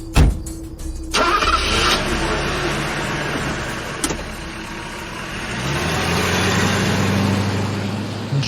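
A car engine cranks briefly and catches, then settles into a loud, steady idle close by that swells slightly toward the end.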